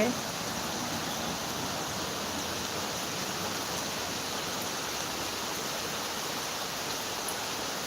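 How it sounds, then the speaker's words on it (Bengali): Heavy rain falls in a dense, unbroken hiss at an even loudness for the whole stretch, with no voices over it. "প্রচুর বৃষ্টি হচ্ছে"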